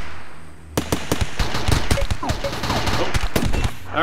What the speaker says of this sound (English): Alright, just gonna step in here, pop some shots at Garza.